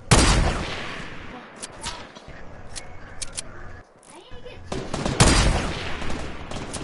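Rapid bursts of gunfire in a shooting video game, dense volleys at the start and again near the end with a brief lull between, loud and up close, while a player talks over it.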